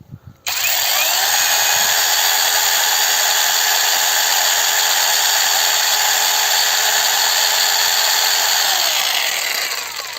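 A YUANSEN YS-12GSJ cordless battery chainsaw with a bar runs steadily at full speed for about ten seconds after starting, a loud, close, continuous high-pitched motor and chain whine with no talking.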